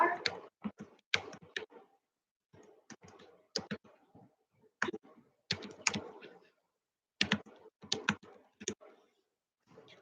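Typing on a computer keyboard: bursts of quick, close clicking keystrokes separated by short pauses, loud and alone without talk.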